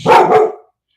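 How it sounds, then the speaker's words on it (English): A single close, loud dog bark, a sharp double-pulsed burst lasting about half a second, then silence. "if you hear dogs barking, I apologize."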